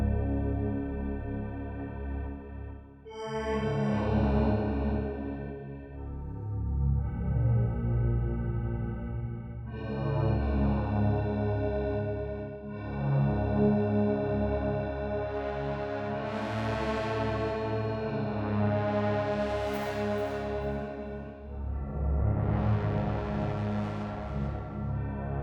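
An Arturia DX7 synth pad drenched in a huge-room reverb swells through slow, sustained chords with shimmering, echoing overtones that rise and fade, played alone with no talking.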